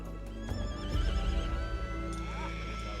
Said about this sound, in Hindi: ठाकुर को एक घोड़ी की दर्द भरी आवाज सुनाई दी